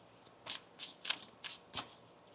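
Tarot cards being shuffled by hand in a series of quick riffling bursts, about six crisp rustles in a loose rhythm, close and fairly quiet with no talk.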